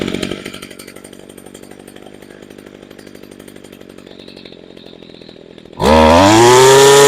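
A two-stroke engine, chainsaw-like, idles with a rapid burbling putter during carburetor idle-screw adjustment, then suddenly revs to a loud, high, rising scream at the end, with no voice.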